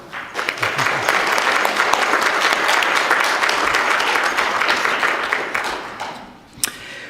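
A church congregation at a Sunday service applauds to welcome a speaker to the pulpit, steady dense clapping from many hands filling the room for several seconds before tapering off.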